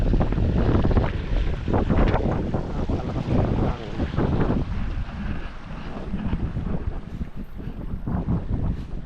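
Strong wind gusts buffet the microphone in a steady, loud roar that rises and falls without pause.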